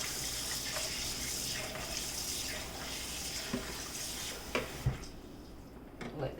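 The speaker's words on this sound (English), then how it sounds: "I'm going to pour some water in this." Water running from a tap and poured into a container at a kitchen sink, a steady close splashing stream with a few clunks toward the end.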